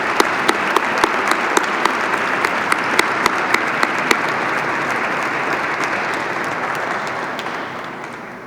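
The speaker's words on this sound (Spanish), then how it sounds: "pido un fuerte aplauso para mis compañeros, porque sin ellos esto no sería posible" Steady applause from a church audience at a 2022 Holy Week proclamation event in Callosa de Segura, Spain, honoring the organizers; dense, sustained clapping that fades slightly toward the end.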